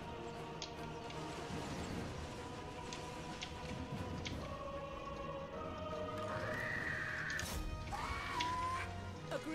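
A horse whinnies in Total War: Warhammer 2 amid busy background effects and music, the rising neigh standing out briefly near the end.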